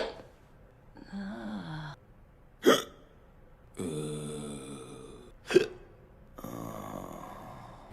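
Cartoon characters hiccup in turn, two sharp, loud hiccups standing out between stretches of short, whiny vocal noises, all heard up close.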